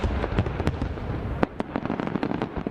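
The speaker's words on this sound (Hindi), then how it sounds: "मॉस्को के करीब का ये शहर बीते हफ्ते रोशनी और आतिशबाजी से सराबोर हो गया।" Fireworks over Kubinka, a town near Moscow, during the Rostec festival: a dense run of sharp crackling pops and bangs, some distant and some closer, in a steady irregular volley with no talking.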